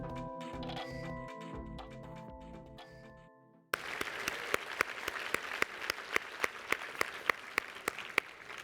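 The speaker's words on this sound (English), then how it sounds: "we would again like to applaud the 2016 award winners" Applause for award winners at a summer learning awards luncheon starts after a few seconds of music. It then turns into scattered, rhythmic clapping with sharp individual claps standing out.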